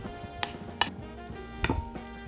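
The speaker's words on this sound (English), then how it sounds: "Now I'll mix it." Spoon stirring a pot of Moroccan harira stew, a few sharp metallic clinks against the pot spaced irregularly over a quiet bubbling background, close and fairly soft.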